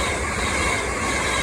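A London Northwestern Railway passenger train from London to Chester rushes past on the West Coast Main Line at Atherstone, a loud, steady roar of wheels and rail noise filling the scene without speech.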